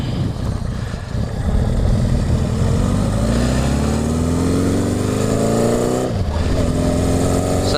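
A Honda CB750 motorcycle with a hopping front wheel cruising on the road, its loud engine revving up steadily through the gears, close and continuous.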